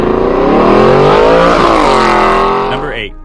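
Mercedes-Benz C63 AMG with a 6.2-liter V8 revving hard and loud up close, a sustained roaring climb in pitch that holds and then eases off near the end.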